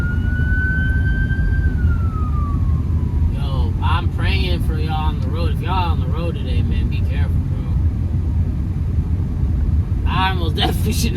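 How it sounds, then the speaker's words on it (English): An ambulance siren sweeps and fades across the first few seconds while a car drives through a snowstorm, steady road and engine rumble throughout; someone talks over the later part. "Ambulance."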